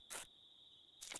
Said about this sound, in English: we have crickets at night because we're in a plains biome